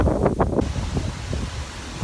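A gust of wind buffets a microphone outdoors in Seattle, a loud rumbling roar that surges early and then holds as steady low blustering noise for about two seconds.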